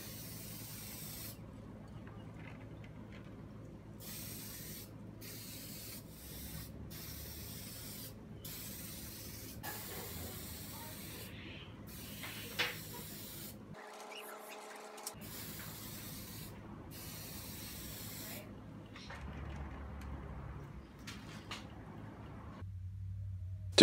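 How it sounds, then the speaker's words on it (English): Gloss varnish sprayed from an aerosol can onto a wooden live edge platter, heard as repeated short hissing bursts with gaps between them, fairly close and moderately quiet over a low background hum. "And a couple of coats of gloss varnish."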